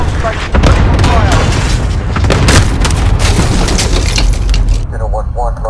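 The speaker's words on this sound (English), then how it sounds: "Cluster strike incoming. Take cover." Cluster strike explosions in Call of Duty: Modern Warfare, a loud dense barrage of booms and cracks rolling continuously, with game voices speaking over the blasts.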